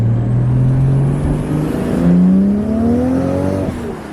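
A loud engine in a Toyota JZX car revs hard through rising gears, the pitch climbing steadily with a brief drop midway, as tires spin under heavy acceleration.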